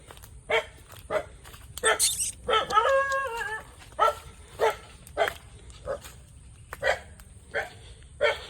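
A dog barks again and again in sharp, evenly spaced bursts, close by, with a brief whining yelp partway through.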